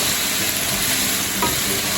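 Mixed vegetables in a frying pan, turned and stirred: a steady loud sizzle across the whole stretch, with scraping stir strokes and one brief utensil knock near the middle, no voices.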